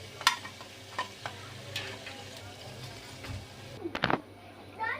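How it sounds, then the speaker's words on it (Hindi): Papdi deep-frying golden in hot oil, a steady soft sizzle with occasional sharp crackles and clinks of a utensil, heard up close with no talk. "बाकी की पापड़ी भी हम इसी तरीके से गोल्डन फ्राई कर लेंगे"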